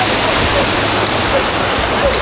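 A forest waterfall roars in a steady, loud, unbroken rush of falling water that fills the whole clip, with no speech.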